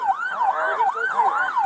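A police car siren wails in fast, repeating rising-and-falling cycles, loud and close, during an attempt to pull over a car.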